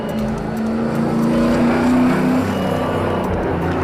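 A street-legal stock car roars loudly and close by as it drifts sideways around a track corner, engine note rising and holding over a few seconds.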